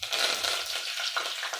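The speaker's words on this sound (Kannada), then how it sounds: "ಈಗ ಕರಿಬೇವು ಹಾಕ್ತಾ ಇದ್ದೀನಿ." Curry leaves hiss and crackle in hot oil, a loud, dense sizzle that sustains through the moment with a few sharper pops. The leaves are going in for sabudana khichdi.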